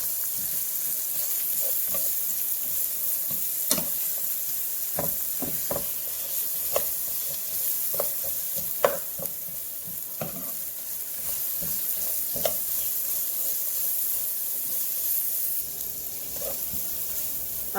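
Food for keto chicken chipotle sizzling in a pan while being stirred, a steady hiss with repeated scraping strokes at irregular intervals, close and alone.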